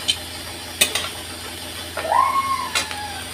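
Rice stir-fried in a pan, heard as a soft scraping and stirring hiss with a few sharp clicks of the utensil against the pan, plus a short rising squeak near the end. No talk.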